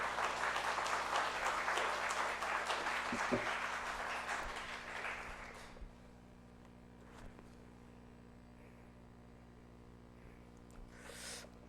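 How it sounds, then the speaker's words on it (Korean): Church congregation applauding during an afternoon service as an elder comes forward, a dense wash of clapping that fades out after about six seconds into quiet room hum. "우리 큰 박수로 맞이하도록 하겠습니다"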